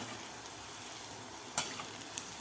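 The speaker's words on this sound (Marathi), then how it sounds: "तर हे सुद्धा आपल्याला गोल्डन कलर होईपर्यंत आपल्याला भजी तळून घ्यायची आहेत" Moong dal bhaji deep-frying in oil in a wok, a faint, steady sizzle with a couple of sharp pops near the end and no voices.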